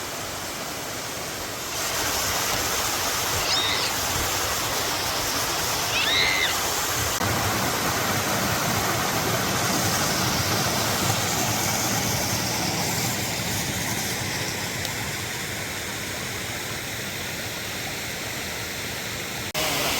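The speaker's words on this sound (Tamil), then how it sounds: "அப்பர் ஃபால்ஸில் தண்ணி நல்லா கொட்டுது" Dense roaring wash of water pouring over the upper falls at Uvas Canyon, loud and continuous after a brief quieter start, with a few faint high chirps above it.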